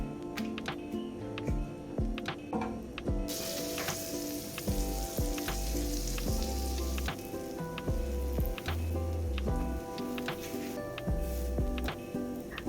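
Butter sizzling on a grill pan that has gone long unused, with a steady frying hiss and scattered crackles and ticks running throughout, fairly close and continuous, with no talk over it.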